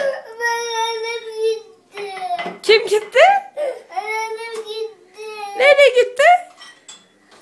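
A young child cries in loud, wavering sobs and wails that come in several bursts separated by brief pauses, heard close up.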